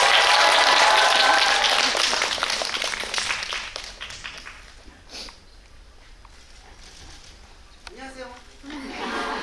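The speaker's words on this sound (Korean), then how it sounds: "큰 박수로 맞아주시면" A large audience at a Korean film screening event bursts into loud, sustained applause that gradually thins out, with a short swell of clapping and voices returning near the end.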